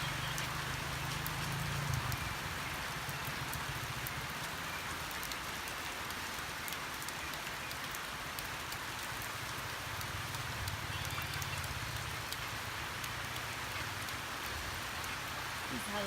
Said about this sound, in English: This is how we cook in the rain.